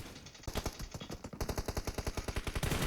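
Automatic weapon fire in a battle royale video game, a rapid, loud run of shots after a brief lull, continuing steadily to the end with no talk over it.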